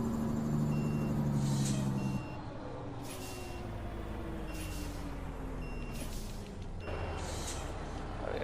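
A heavy truck in American Truck Simulator brakes with a loud air-brake hiss, then rolls into a right turn while the engine drones steadily and warning beeps chirp at intervals.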